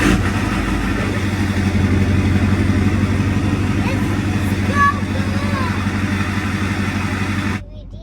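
A heavy diesel truck engine rumbles steadily up close, a deep throaty drone that cuts off abruptly near the end.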